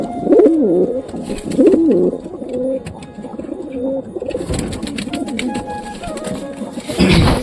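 Newly acquired pet pigeons coo close by in repeated throaty, warbling phrases, with some small rustling and clatter around them.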